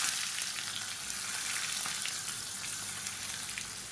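Shallots and garlic cloves with skins on fry in hot oil, giving a steady, close sizzle with fine crackling pops throughout and no voices.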